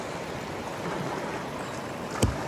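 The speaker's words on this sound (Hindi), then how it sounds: "अच्छा, पत्थर के ऊपर से निकली बोट।" A rafting boat runs over rocks in a river near Jim Corbett, with steady close rushing water and one short knock near the end as the hull scrapes a stone.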